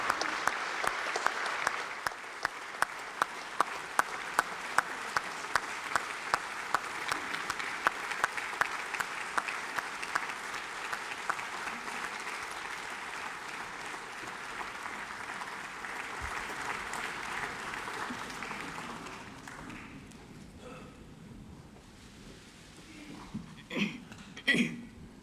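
Lawmakers in the National Assembly give a standing ovation as the president enters for a budget address, sustained dense clapping that fades after about twenty seconds into murmuring room noise and a few scattered sounds.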